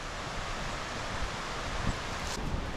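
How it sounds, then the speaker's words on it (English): A dense, loud rush of water fills the air, steady and unbroken, like a nearby stream or waterfall, along a forest path in Australia's Royal National Park. "The sound of the water's getting very loud."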